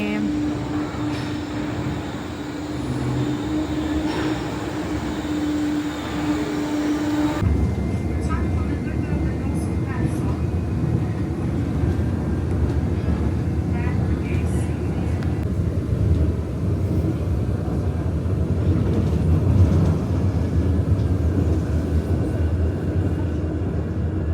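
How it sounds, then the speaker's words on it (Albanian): Elevated sky train arriving and running: a rising, steady roar that jumps louder as the carriages pass close, then continues as a broad, sustained rumble. "po vjen treni"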